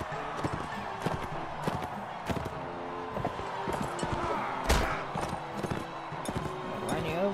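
Horse hooves from the video game Mount and Blade Warband, a run of sharp, irregular clip-clop thuds close by, with a voice talking over them.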